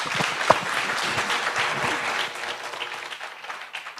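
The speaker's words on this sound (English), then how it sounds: "A round of applause for him." An audience claps steadily in applause at a Kenya EdTech Summit, a dense, even patter of many hands lasting throughout, with one sharp louder clap near the start.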